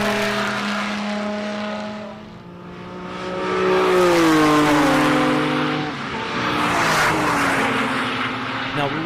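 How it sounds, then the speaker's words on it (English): Half a dozen Lamborghini V12 cars passing at around 150 mph, each engine a loud, rising and falling harmonic howl that sweeps past in overlapping waves, dipping briefly before the next car roars by. "to see and hear half a dozen Lamborghini V12s go by at 150 miles an hour"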